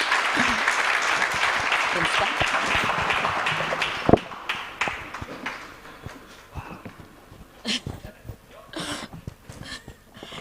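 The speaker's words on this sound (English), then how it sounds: "Let's give them a mighty, mighty, mighty, mighty hand clap" A class audience gives guests a strong round of hand clapping that rolls on for several seconds, then thins into scattered claps as voices take over.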